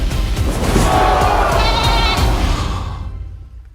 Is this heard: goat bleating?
yes